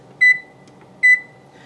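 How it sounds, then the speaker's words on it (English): A kitchen timer being set while baking homemade hamburger buns gives two short, bright electronic beeps about a second apart, clear and close against a quiet room. "So I'm going to set the timer for 10 minutes."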